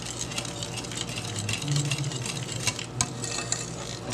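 Fresh pumpkin pie filling stirred in a bowl, a continuous close scraping and sloshing with soft irregular knocks of the utensil, no talk.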